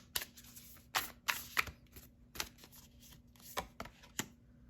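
Oracle cards being shuffled for a reading, a series of crisp riffling bursts and soft slaps in uneven rhythm, close and clear with no talking.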